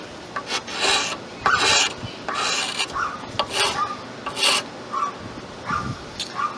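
A rasp scrapes a wooden knife handle in close, uneven strokes, a series of short rough rasping bursts with small pauses between them.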